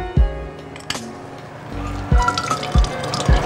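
Fresh lime juice is pressed and poured for a cocktail, heard as a few close, quick liquid drips and short splashes spaced over a few seconds, with light handling noises between them.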